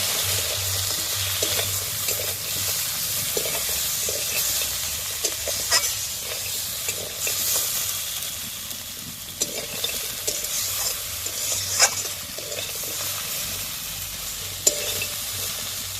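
Bitter gourd curry with fried lentil dumplings stirred in a frying pan, a continuous sizzle and bubbling under repeated soft scraping of the spoon, with occasional sharper knocks against the pan.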